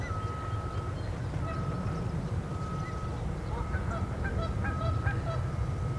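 Waterfowl call in repeated honking notes while flying over, their cries scattered above a steady low rumble of background noise, with people talking nearby.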